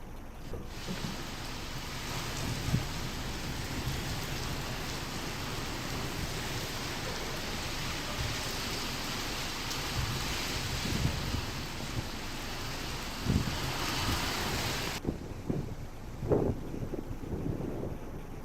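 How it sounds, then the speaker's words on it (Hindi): Drizzle falling in strong winds under dark clouds, a steady broad roar of wind and light rain buffeting the microphone throughout, with occasional louder gusts and knocks. "तेज हवाओं के साथ बूंदाबांदी हुई"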